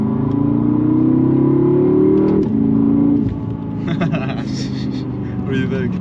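BMW F10 M5 V8 with a Valvetronic Designs exhaust and OEM downpipes revs loudly up to about 4,000 RPM in a rising drone, then drops back to a burbling idle while people talk over it.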